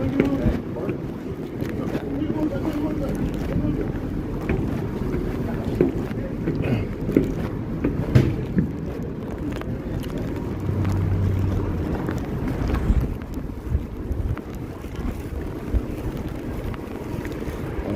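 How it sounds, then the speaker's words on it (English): Strong wind blowing outdoors, a steady loud rumbling roar with gusts that buffet the microphone throughout, like standing on an exposed open spot. "So much wind out here, man. It nearly blew my plate out of my hand."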